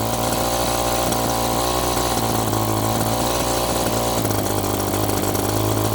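An Echo chainsaw engine runs loud and close for the whole stretch, a steady buzzing drone that shifts in tone partway through but keeps going, with no talking.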